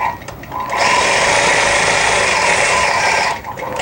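A longarm quilting machine runs one stitching pass for under three seconds, a steady, loud mechanical whir that starts and stops cleanly against a quieter room.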